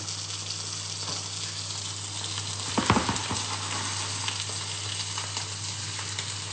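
Mackerel sizzles steadily in a non-stick frying pan, a loud, continuous hiss of hot fat, briefly stirred or moved around partway through with a short clatter.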